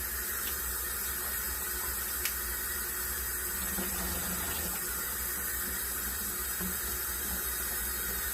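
Water trickles steadily into a plastic bottle during seed saving, a soft continuous pour over low background hiss with no voices.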